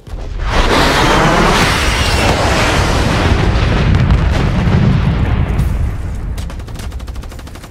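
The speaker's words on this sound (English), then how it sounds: "Friendly lightning strike inbound." Lightning strike explosions in Black Ops 3 multiplayer roar as a dense, continuous barrage of heavy booms and crackling blasts for several seconds, loud and close, thinning out toward the end with sharp snapping bursts.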